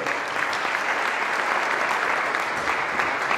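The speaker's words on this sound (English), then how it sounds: "Let's give them a round of applause." A conference audience claps loudly and continuously throughout, a dense roar of many hands with no pauses, close and filling the room.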